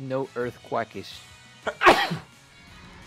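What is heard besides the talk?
sneeze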